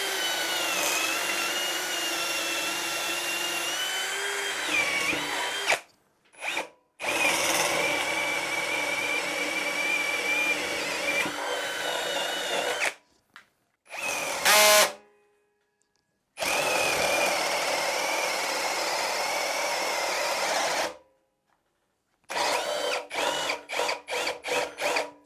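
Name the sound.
Ryobi R18PD7 cordless drill boring with 10 mm spade bit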